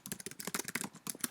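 Rapid clicking keystrokes on a computer keyboard, close and distinct, in a quick uneven rhythm with a brief pause midway.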